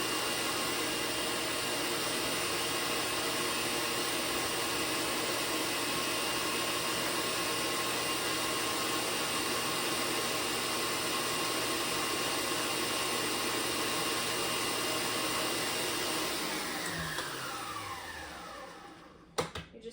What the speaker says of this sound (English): Just turn the mixer off to make sure that it's getting all the stuff around the edges of your bowl.